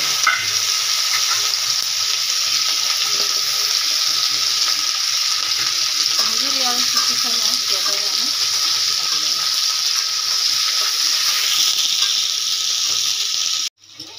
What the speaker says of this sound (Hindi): आमे एबे कुंदुरी आ आलू को भाजी देबा